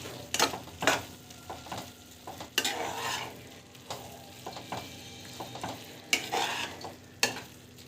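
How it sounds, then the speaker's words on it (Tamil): A cluster bean stir-fry is stirred in a pan, with a close, steady frying sizzle and a series of loud, irregular scraping strokes of a spatula against the pan. "ஜஸ்ட் வந்து மிக்ஸ் பண்ணி விட்டுக்கோங்க"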